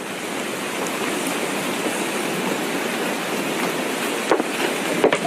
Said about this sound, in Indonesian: Malah hujan.